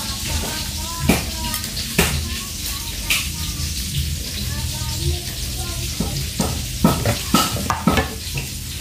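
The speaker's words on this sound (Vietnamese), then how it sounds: "Cá chiên cũng sắp chín rồi nha." Fish fries in a pan with a steady sizzle, broken by sharp, close clinks and scrapes of a utensil against the pan at irregular moments.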